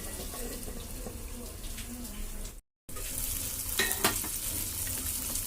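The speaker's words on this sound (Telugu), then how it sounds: "టమాటాలు అయితే మగ్గుతున్నాయి కదా," Tomato pieces cook in a covered pan with a continuous sizzling hiss and some watery, stirring textures, briefly cut out midway.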